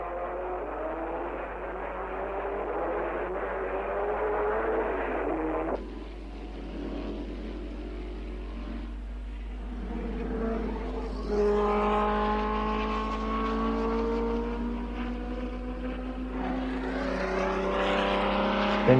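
Ferrari racing cars at the 1959 Dutch Grand Prix roar past one after another, their engines rising and falling in pitch as they pass, loud and close with overlapping engine notes.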